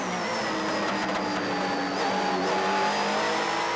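Several JGTC racing cars, Honda NSX and Toyota Supra GT machines, race by in a continuous engine roar at full throttle, with a high whining tone that rises and dips as they power through the corners, loud and without any voices.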